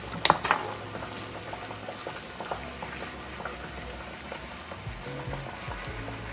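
New York strip steak cooking in a hot pan, a steady soft sizzle with scattered pops and crackles, a sharper burst near the start, continuing fairly quietly throughout.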